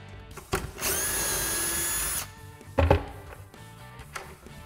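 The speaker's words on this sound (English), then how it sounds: "and just keep on drilling." A power drill whines steadily for over a second while boring shelf-pin holes through a jig, then stops, followed by a short clatter and a brief second burst.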